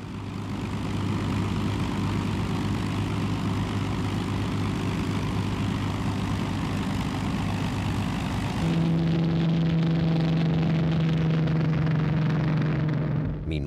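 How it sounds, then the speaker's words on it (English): B-29 bomber aircraft engines roaring during an air raid on an aero-engine factory outside Tokyo, a continuous loud propeller drone whose pitch shifts partway through as if another plane passes close. "no less than 111 B-29s attacked an aero-engine factory on the outskirts of Tokyo"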